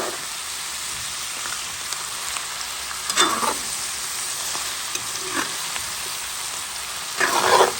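Garlic frying gently in a pan for a beef and carrot dish gives a steady, soft sizzle up close, broken by a few brief stirring clicks, with no talking.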